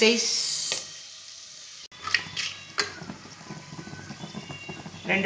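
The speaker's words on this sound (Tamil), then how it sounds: "இப்போ இதெல்லாம் கொஞ்சம் வந்து ஃப்ரை ஆகட்டும்" Ingredients for paneer biryani sizzling and frying in a pan, a steady close hiss with occasional stirring clatter and brief bumps, with a voice speaking now and then over the cooking.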